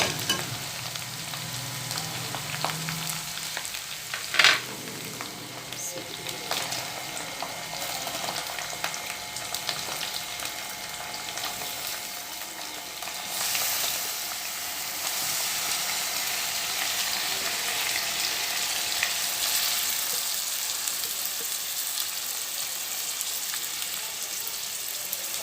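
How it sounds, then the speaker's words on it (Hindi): Green chillies, tomato and onion sizzle in hot ghee for Achari bhindi, a steady broadband frying hiss with a brief clatter early on, the sizzle swelling louder in the second half with no voices. "घी गर्म है इसलिए जल्दी फ्राई हो जाएगा। अब हम इसमें अपनी हरी मिर्च, टमाटर और प्याज शामिल कर देते हैं।"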